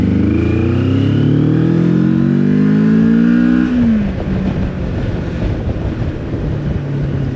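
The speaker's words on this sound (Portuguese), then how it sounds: "o barulho da moto é muito engraçado" A Moto Morini X-Cape 649 twin-cylinder motorcycle ridden along a seaside road: the engine tone climbs steadily for nearly four seconds, then drops into a rougher, lower rumble, with wind buffeting the microphone throughout and no voices.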